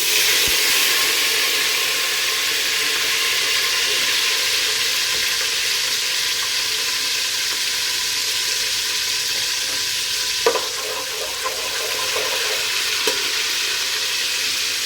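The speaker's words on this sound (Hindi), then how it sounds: "1 बड़ा नींबू हमने ले लिया, उसका रस निकाल लिया, तेल में हम इसको डाल देंगे।" Lemon juice hitting hot oil for a meat bone curry, a loud, bright, continuous sizzle close up that gradually settles, with a few small clinks later and no talking.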